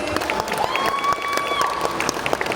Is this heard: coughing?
no